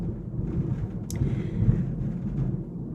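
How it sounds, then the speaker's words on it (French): A thunderstorm rumbles low and continuous, a deep rolling thunder with a faint crackle partway through, heard at moderate distance without speech. "Désolée pour l'orage."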